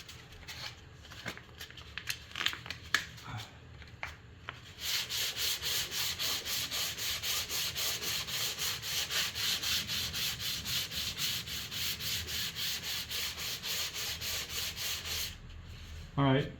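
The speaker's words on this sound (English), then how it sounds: "as we sand it, you'll see that it's going away" Bondo body filler being hand-sanded on an MGB car panel: a few scattered rubs first, then a long run of rhythmic, even back-and-forth strokes, close and fairly quiet, with brief talk at the start.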